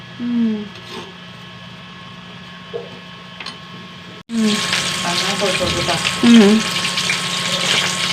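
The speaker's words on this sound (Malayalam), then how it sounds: "മോട്ടറിന്റെ സൗണ്ട് തോന്നുന്നല്ലേ" A steady electric motor hum runs throughout, growing louder and denser halfway through, with a voice speaking intermittently over it.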